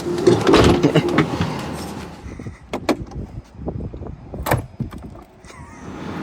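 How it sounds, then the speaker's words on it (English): A powered falcon-wing door on a Tesla Model X whirs and thumps shut, followed by mechanical clicks and a few sharp latching sounds in a quiet space. "every time you touch the brake, the door closes"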